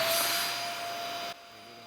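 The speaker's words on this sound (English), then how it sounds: "so you can see here I'm running the vacuum over stuff." A Dyson DC50 upright vacuum cleaner runs with a loud, steady motor whine and broadband airflow hiss, then drops abruptly to a quieter drone as the load changes.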